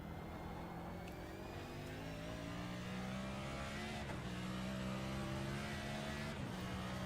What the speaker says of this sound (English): You can just hear that car.